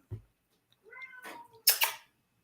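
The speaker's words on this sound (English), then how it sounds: "She's the most spoiled cat in America." A house cat meows twice, a short rising cry and then a louder drawn-out one, close and alone after a faint thump.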